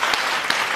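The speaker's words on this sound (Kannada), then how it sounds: "ಆಮೇಲೆ ಕ್ಲ್ಯಾಪ್ ಮಾಡ್ಬಿಡೋಣ" An audience bursts into even, continuous applause, a dense wash of many hands clapping at once, loud and sustained, with a couple of slightly sharper claps standing out and no voices.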